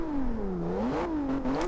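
Engine of a 2015 Volvo S60 Polestar in the Forza Horizon 2 racing game revs up and down in a steady wavering tone, rising and falling twice over under two seconds, close and fairly loud with no talk.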